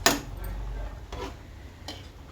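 Pots and utensils clinking in a home kitchen while dal tomato curry cooks, a sharp metallic clank followed by two lighter taps, close and fairly quiet with no talking.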